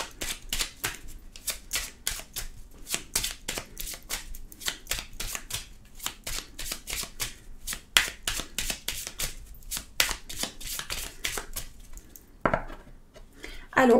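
Astrological oracle cards shuffled by hand, a rapid run of crisp card flicks and riffles close up, steady for many seconds with a louder snap near the end and no talking.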